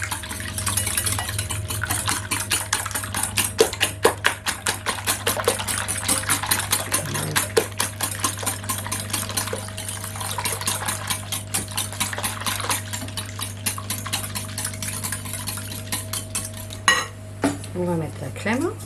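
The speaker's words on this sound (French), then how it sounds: "Je bats avant de rajouter tout le reste." Eggs are beaten in a bowl for a gratin of courgette and sweet potato, a steady rapid clatter of the utensil against the bowl that runs nearly continuously and stops near the end.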